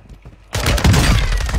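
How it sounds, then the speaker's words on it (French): Gunfire bursts out suddenly in a video game, a loud dense volley after a short quiet lead-in, sustained and close. "Non, c'est un flingue."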